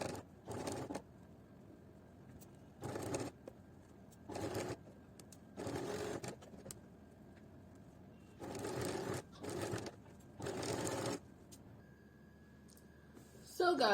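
Sewing machine stitching a top in bursts of about a second each, separated by short pauses, with steady rapid whirring and a faint background hum between runs.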